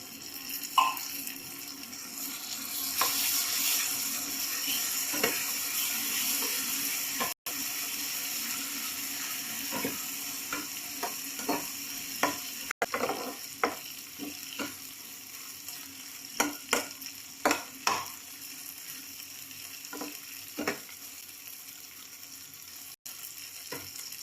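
Five sardines frying in a pan crackle and sizzle continuously at close range, with scattered sharp pops and utensil clatter throughout.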